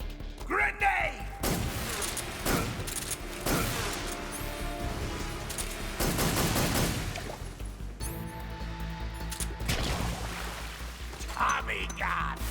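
Automatic Tommy gun fire from Metal Gear Solid 3: Snake Eater, loud repeated bursts and impacts with crashes and thuds through a busy game soundscape.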